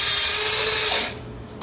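A 1/4 inch socket ratchet clicks rapidly and close up while backing a bolt out of a 1997 Mastercraft riding mower, a brief burst of clicking that stops after about a second.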